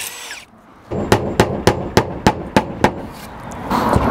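A drill working on a flat concrete roof tile to make a hole, heard as a series of eight sharp, evenly spaced bursts, fairly loud and close, with no talk.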